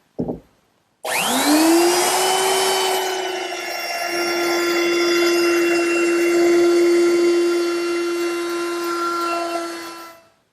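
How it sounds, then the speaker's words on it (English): A router fitted with a 3/8 inch radius roundover bit rounds over the top edge of a wooden table. After a short click it spins up to a loud, steady high whine that runs continuously up close, then winds down. "Now I'll round over the top edge with a 3/8 inch radius rounding over bit."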